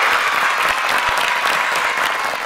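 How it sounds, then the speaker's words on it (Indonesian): Studio audience applauding at the opening of an Indonesian personal-finance talk show, steady dense clapping filling the room for the whole stretch, loud and continuous, with no voices over it. "Boleh tepuk tangannya penonton, terima kasih."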